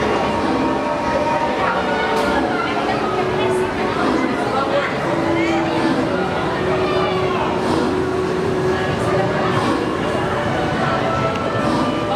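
A tourist tram ride at Universal Studios Hollywood rumbles steadily throughout, loud and continuous, with crowd chatter and voices of riders mixed in over the running noise.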